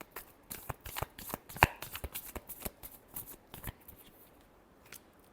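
A deck of tarot cards is shuffled by hand, a rapid run of crisp riffling snaps and flutters, close and fairly quiet, with no one talking.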